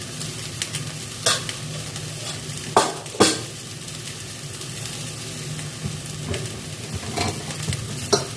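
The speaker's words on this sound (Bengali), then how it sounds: "আমি অল্প অল্প জল দিয়ে ভালো করে মশলাটা কষে নিই" Spice masala fries in a pan for prawn malai curry, giving a steady low sizzle. A spoon stirs and scrapes against the pan now and then in a few sharper close knocks. No one speaks.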